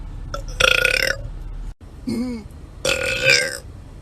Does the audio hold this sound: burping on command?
yes